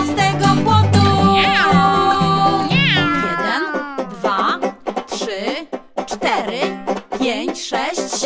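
Cats meowing in a Polish children's counting song about ten cats and a dog, loud sung and squeaky meows in a quick, pitched series, stretched and rising over a light musical backing.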